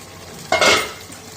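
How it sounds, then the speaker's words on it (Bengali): A lid comes off a cooking pot holding pabda fish in coconut paste, giving one short metallic scrape and clink, then a brief burst of steam and sizzle that fades within a second. "এবার ঢাকনাটা খুলে নেব।"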